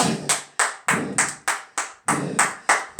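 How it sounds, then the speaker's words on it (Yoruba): A group claps hands in unison during a morning exercise session, about ten sharp, evenly spaced claps in a steady beat, close and loud with no talking. "Mo fún yín ní àtẹ́wọ́ àti ariwo ni o"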